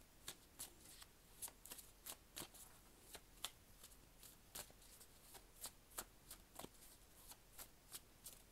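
Tarot cards shuffled for a reading, a quiet series of crisp riffling snaps at a steady, slightly irregular rhythm, close and faint with no talk.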